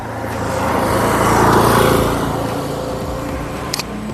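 A Simple One electric scooter carrying a pillion rider climbs an incline, its motor giving a loud, steady whine and road rumble that swells in the middle and then eases, with a brief click near the end.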